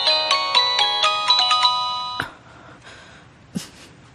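A mobile phone ringtone plays a bright, repeating melodic chime pattern for about two seconds, loud and close, before cutting off, followed by a quiet room with a couple of soft knocks.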